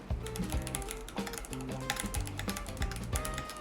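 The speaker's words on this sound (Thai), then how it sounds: "เดี๋ยวผมจะเริ่มพิมพ์แล้วนะครับ" Continuous clacky typing on a mechanical keyboard with brown switches, recorded through a FIFINE K678 microphone, rapid uneven keystrokes close to the mic, with no talking.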